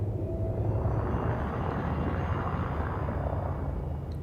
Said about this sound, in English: Landing gear deployed.